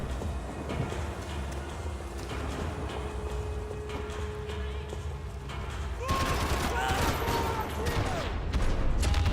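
Gunfire in the video game Max Payne 3, a dense run of shots rattling over a steady backdrop of game noise, growing louder and busier toward the end with sharp bursts, alongside some talk.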